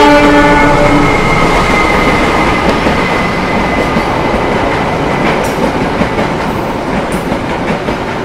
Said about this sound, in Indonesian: Yang akan segera melintas di jalur 4 adalah kereta api Mataram